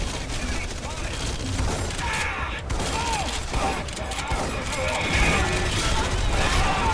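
Red Faction Guerrilla combat: a grenade blast and steady gunfire roll on without pause over rumbling background noise, with a voice talking faintly underneath.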